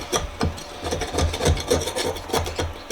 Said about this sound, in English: trying to scratch out all this nasty stuff